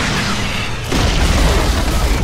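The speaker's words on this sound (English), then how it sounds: "Jeez, Radiant's middle tower just got wrecked." A Dota 2 tower collapsing in a ranked match, heard as a loud, dense low boom and rumble that swells after a brief lull and holds steady, thick with crumbling noise.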